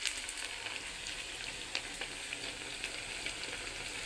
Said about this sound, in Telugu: ఆయిల్లో బాగా ఫ్రై చేసుకుందామండి.